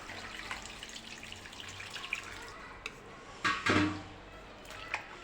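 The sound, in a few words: washing potato wafer slices in clean water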